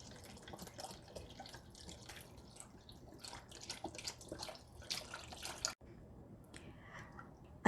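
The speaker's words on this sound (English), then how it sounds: "And now we're gonna add the chicken broth." Chicken broth pours from a 32-ounce carton into a cooking pot, a steady splashing liquid stream running for several seconds close by, with no talking.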